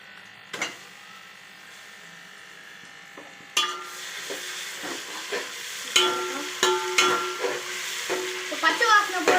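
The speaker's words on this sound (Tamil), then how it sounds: "பச்சை வாசனை போட வரைக்கும் வறுக்கணும்" Ginger garlic paste frying in a pan with onion and whole spices for a mutton dish. A quiet start gives way to a steady, close sizzle with repeated scraping stir strokes, and no talk.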